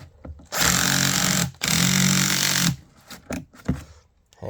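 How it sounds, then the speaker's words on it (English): Power drill enlarging a bolt hole in a billet door handle on a Land Cruiser, two loud sustained whirring bursts of about a second each with a brief gap, followed by quieter clicks and handling noises. "I just had to tighten down the drill a little bit"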